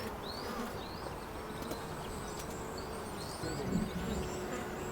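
Small insects, likely bees, buzz around a person outdoors in a steady low drone with faint, brief higher whines close by over a constant background, and no talk.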